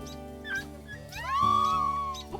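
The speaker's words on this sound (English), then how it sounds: "I'm gonna go ahead and do a happy little howl since we have our babies" A wolf in the video game WolfQuest gives a happy howl, starting with short whimpering yips and rising into a long, clear, wavering howl over a steady game music background.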